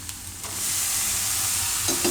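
Boiled peas tipped into a pan for a methi matar paneer curry, a brief soft clatter at the start followed by a steady broadband sizzle of frying that continues close up with no talking.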